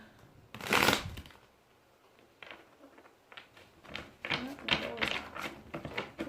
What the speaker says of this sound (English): It's not a good shuffle.